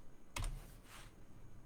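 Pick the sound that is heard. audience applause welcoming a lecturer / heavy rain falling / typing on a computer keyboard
typing on a computer keyboard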